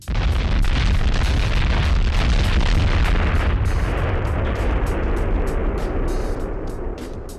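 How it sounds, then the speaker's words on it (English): A house blowing up from a gas leak in Stafford, New Jersey is rendered with an added explosion effect, a loud sustained booming roar and rumble that slowly fades, with crackling debris bursts toward the end. "Are you sure this was a gas explosion and not just some meth lab blowing up?"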